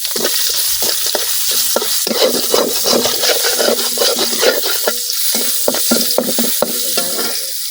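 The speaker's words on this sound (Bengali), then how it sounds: "এখন এই মাছ ভাজা তেলের মধ্যে দিয়ে দিতেছি পেঁয়াজ" Onions are tipped into hot oil already used for frying koi fish in a village kitchen, giving a loud, continuous close sizzle with stirring scrapes throughout and no talking.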